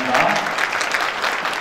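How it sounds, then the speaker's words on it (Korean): Brief burst of audience clapping at a choir's annual concert, steady and moderately close, honoring alumni guests. "박수해 주십시오"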